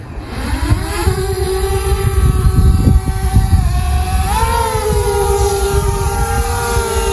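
Toy airplane or small drone taking off and flying close by, a loud continuous motor whine rising in pitch as it spools up, then holding steady with a brief further rise midway.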